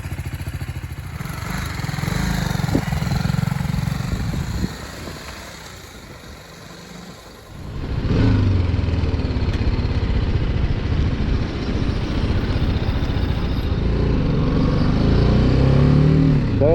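A BMW G310GS motorcycle sits idling at a fast tick over of around 1600 rpm, a steady close putter that dips quieter midway before returning louder and rougher.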